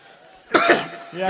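One harsh, close cough bursts out after a quiet moment, followed by a short throaty vocal sound.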